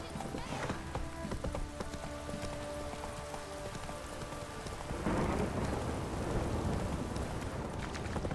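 In The Witcher 3, horse Roach's hooves clip-clop through a rainstorm, the steady hoofbeats mixed with rain hiss and a rumble of thunder, with game music tones early on.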